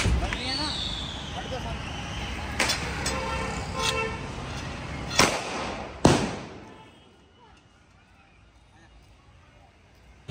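Diwali firecrackers go off outdoors: a whistling launch followed by a few sharp cracks, then a loud bang that fades into quiet, with people talking around it.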